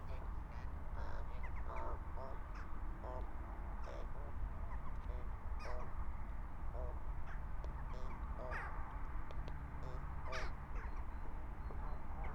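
A rook, a corvid with a purple sheen, gives repeated harsh cawing calls, some near and some farther off, over steady outdoor background noise.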